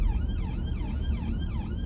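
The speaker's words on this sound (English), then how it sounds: "bear with, an ambulance" An ambulance siren in the UK wails in a steady, repeating up-and-down sweep, loud and close, with traffic rumble underneath and no talking.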